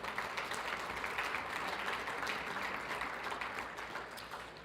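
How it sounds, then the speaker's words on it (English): Audience applause for police officers at a Special Olympics New Mexico law enforcement torch run event, a steady, dense wash of clapping from a crowd that holds throughout and tapers slightly at the end. "But let's give them a round of applause."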